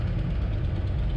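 A Harley-Davidson Pan America adventure motorcycle idles up close, a steady low rumble with an even, slightly knocking pulse and no talk over it.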